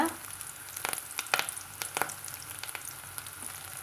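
Small shallots and curry leaves sizzling in hot oil after mustard seeds pop, a steady close frying hiss with a few sharper crackles and no talking.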